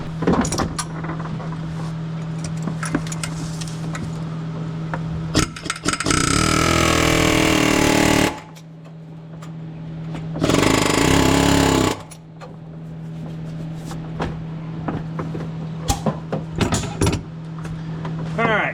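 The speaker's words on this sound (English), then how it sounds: "Now we're gonna do the old air hammer trick on the fan clutch." An air hammer rattles on the fan clutch of a 2007-2014 Chevrolet Silverado truck in two loud, sustained bursts of about two seconds each, with a steady engine-like hum and clanks of handled tools in between.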